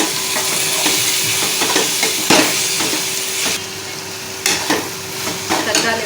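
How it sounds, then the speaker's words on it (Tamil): Chopped tomatoes sautéing in a pan with ginger-garlic paste for a paneer masala filling, giving a steady close sizzle broken by a few sharp stirring scrapes, with no talking. "தக்காளி நல்லா வதங்கணும்."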